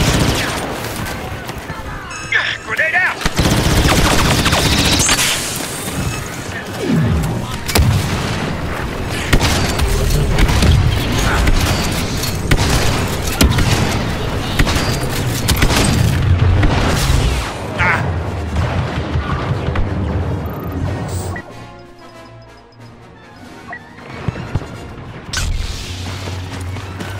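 Grenade blasts and blaster gunfire rage through a Star Wars battle on Felucia, a dense, continuous barrage of booms and rapid shots with loud bursts throughout, voices calling out over the combat.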